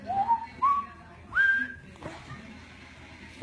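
A man gives a few short rising whistles, three quick calls up close, followed by quieter background noise and faint rustling.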